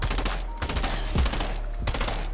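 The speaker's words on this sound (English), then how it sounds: "We got the burst SMG." Burst SMG fire in Fortnite, dense rapid gunfire bursts with heavy low thumps, loud and close, continuous across the moment with no talk.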